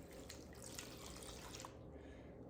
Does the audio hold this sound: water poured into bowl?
yes